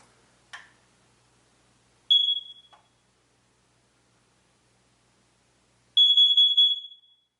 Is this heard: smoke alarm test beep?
yes